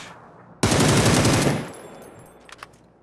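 A sustained burst of automatic gunfire from a player's weapon in the video game PUBG rattles loud and close for about a second, then fades, followed by a couple of faint distant shots.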